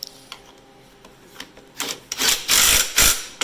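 A wrench tightening a bolt on a 1994 Kawasaki Bayou KLF 220 ATV during motor mount repair, with faint clicks followed by a loud burst of rapid ratcheting near the end.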